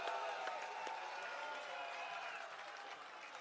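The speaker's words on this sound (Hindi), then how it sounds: "एक बार जोरदार अपने लिए ताली" An audience at a Hindi political rally speech applauds loudly, producing a sustained wash of many hands clapping. It starts strong and slowly tapers over a few seconds.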